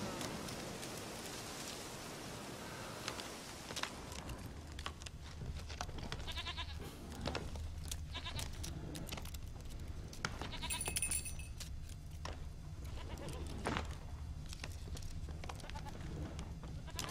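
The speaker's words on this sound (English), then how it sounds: "Hey, is that the goat?" A goat bleats in The Witcher 3, set against steady ambient game sound with rain-like hiss; the bleats come as short, mid-distance calls spread through the scene rather than a single loud cry.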